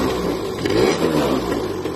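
A malfunctioning scooter's engine running just after starting, a steady, close mid-pitched motor drone with slight fluctuations and no voices.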